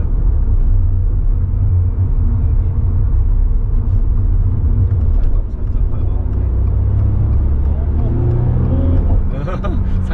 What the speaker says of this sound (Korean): 이건 엔진음. 엔진에서 나는 소리인데,